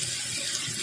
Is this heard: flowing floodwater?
yes